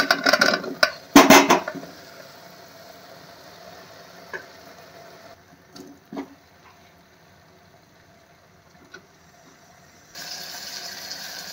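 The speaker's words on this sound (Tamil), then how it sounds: "இது கூடவே நம்ம எல்லா மஷ்ரூமையும் ஆட் பண்ணிக்குவோம்." Mushrooms tipped into a hot pan with biryani masala hiss and sizzle, with a loud burst of frying early on and then quieter stirring and scraping. A brighter sizzle returns near the end.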